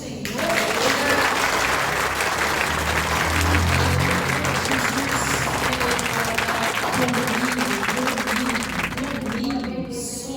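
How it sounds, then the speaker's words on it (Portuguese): Congregation applauding in church, a full, continuous burst of many people clapping, loud and sustained, with low background tones and voices mixed underneath. "Você pode aplaudir o Senhor."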